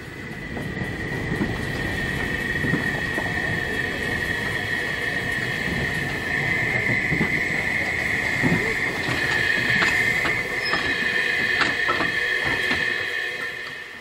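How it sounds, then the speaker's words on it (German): A train shunting at Lindenberg station sends out a continuous close rumble of rolling wagons, overlaid by a sustained high metallic wheel squeal and occasional clanks, with no one speaking. "Wieder wird in Lindenberg umfangreich rangiert"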